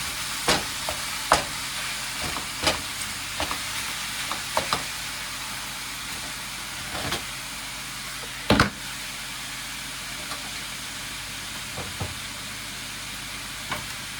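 Ground meat stirred and frying in a pan, a steady sizzle broken by repeated scraping clicks of the spatula against the pan, close and fairly quiet, with no talking.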